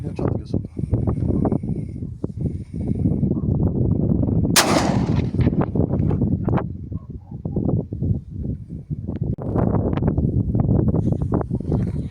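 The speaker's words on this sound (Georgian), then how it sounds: "ეს არის პირველი გასროლა ცილინდრიდან" A single loud shotgun blast from a Breda Echo with cylinder choke, firing a 32-gram load of No. 4 shot, cracks out over steady strong wind rumble, with people talking before and after it.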